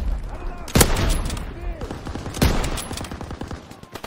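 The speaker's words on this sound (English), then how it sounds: "They fire on the infantry by the tank." Gunfire at infantry near a tank in the video game Call of Duty WW2, two loud sharp shots over a rumbling battlefield din with scattered distant crackling fire and voices mixed in.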